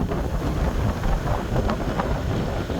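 Wind buffets a microphone outdoors in Vientiane, Laos, a constant, loud, low rumbling roar with fluctuating gusts and no voices.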